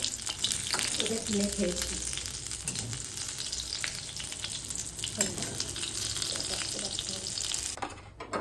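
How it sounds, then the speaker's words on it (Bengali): Chicken pieces frying in a pan for homemade burgers, a steady loud sizzle running throughout with occasional stirring scrapes, close up and without talk. "এটা কম পড়েছিল, ওই জন্য আরও দুটো ভেজে নিচ্ছি"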